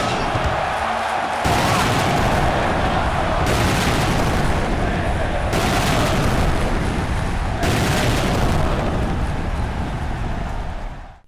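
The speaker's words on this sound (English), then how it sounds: "props to the devs for giving us the proper explosion we were deprived of in the real-life version of this" An exploding barbed wire match in the wrestling video game AEW Fight Forever erupts in a loud, sustained blast of booming, crackling explosions that roll on with pulsing surges for several seconds before cutting off.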